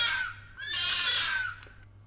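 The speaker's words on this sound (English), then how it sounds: "For y'all city slickers who don't know, a fox sounds like this." A fox call from the Calico video game: a single raspy, high-pitched shriek that wavers and slides in pitch for about two seconds, heard alone at moderate loudness.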